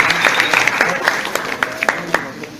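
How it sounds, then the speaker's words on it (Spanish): Audience at a formal academic ceremony applauding a guest of honour at the head table, dense clapping with a few sharp individual claps standing out and a voice heard briefly over it. "Un fuerte aplauso para esta autoridad."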